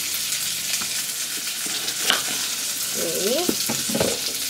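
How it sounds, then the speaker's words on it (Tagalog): Squash (kalabasa) sautéing in a pan gives a steady close sizzle, with stirring scrapes near the end and one brief spoken word. "Yan yung ating igigisa."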